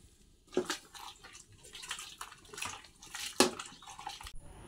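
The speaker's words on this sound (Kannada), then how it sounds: "ಇವತ್ತು ಬೆಳಗ್ಗಿನಿಂದನೇ ಮೋಡ ಮತ್ತು ಹನಿ ಹನಿ ಮಳೆ ಬರ್ತಾನೆ ಇತ್ತು ಇಡೀ ದಿನ" Light drizzle dripping onto a tarpaulin stretched over a courtyard: soft, scattered taps and splashes, faint and irregular, with a few louder drops.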